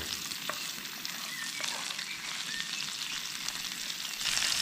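Onion, garlic and peas fry in a pan at a campsite, with a steady close sizzle and occasional stirring scrapes that grow slightly louder at the end.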